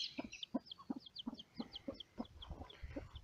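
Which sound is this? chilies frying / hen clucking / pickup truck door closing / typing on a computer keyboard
hen clucking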